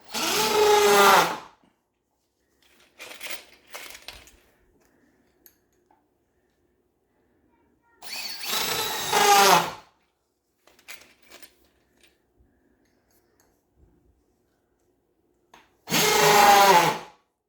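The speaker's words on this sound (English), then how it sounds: "I'm going to use deck screws now to follow up" Deck screws are driven into a wooden archery target stand by a power driver in three loud, whirring bursts of about a second and a half each, separated by quieter knocks, handling noise and pauses.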